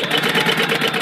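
A sewing machine runs a short back stitch on a wallet panel, a brief, close, steady mechanical whir with a rapid rhythmic pulse.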